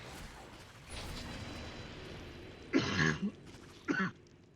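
Two short coughs close to the microphone, the first a little longer, over a faint steady background hum.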